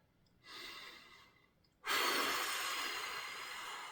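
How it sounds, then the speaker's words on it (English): A person takes a deep breath while holding a golf core-strength twist position: a soft inhale is followed by a longer, louder, airy exhale, close and unaccompanied by speech. "Nice deep breath."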